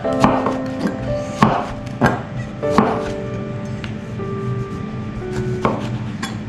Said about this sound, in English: Once you cut the end off the lime, it's very easy to turn it over so it doesn't slip then.